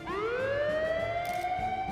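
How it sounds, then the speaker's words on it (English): A loud alarm siren rises steeply in pitch and then holds a sustained wail, close and continuous, with no voices over it. "Do you hear that alarm?"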